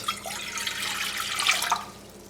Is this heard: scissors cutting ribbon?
no